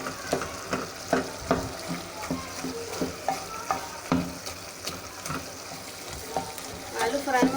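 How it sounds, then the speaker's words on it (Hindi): Potato and cauliflower pieces for Delhi-style aloo gobhi are stirred and crushed in a frying pan, with a steady sizzle under repeated scraping and clanking of the spoon close by. "इसको थोड़ा सा हम भून लेंगे। जितने भी पीसेस होंगे उनको हम क्रश कर लेंगे।"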